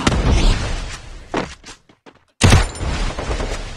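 Gunfire in Garena Free Fire arrives as dense, loud bursts of shots at the start and again near the end, separated by a brief near-silent gap.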